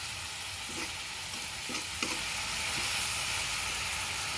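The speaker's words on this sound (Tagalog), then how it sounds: "Ginisang papaya at moringa leaves with chicken." Papaya, moringa leaves and chicken with tomato, garlic and onion sauté in a pan, a loud continuous sizzle with a few soft stirring scrapes, no talking.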